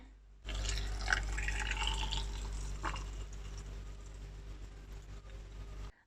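Vinegar brine pours into jars packed with peppers for pickling, a steady close trickle and gurgle of liquid with a low hum beneath it, running for several seconds until it abruptly stops.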